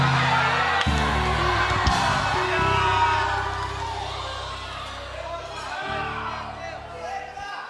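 A church congregation shouting in praise at a UMADEC 2023 gathering, a loud sustained roar of many overlapping cries and whoops that swells and fades over several seconds.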